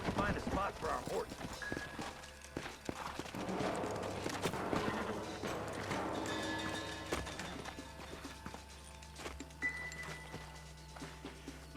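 Horses' hooves clip-clop at a walking pace amid Red Dead Redemption game sounds, with voices talking over them.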